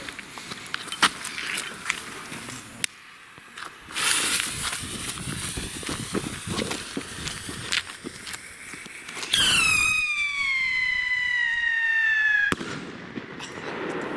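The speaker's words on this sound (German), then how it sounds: "jetzt Sirenenrakete in blau." A blue Funke siren firework rocket goes off outdoors with crackling, then lets out a loud descending whistling shriek. Scattered pops and rustles come before it, and no one speaks.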